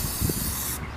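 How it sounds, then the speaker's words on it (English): A spray paint can hisses steadily as paint goes onto a car. The hiss is close and continuous for most of a second, then cuts off abruptly. "So I'm gonna start spray painting her car right now"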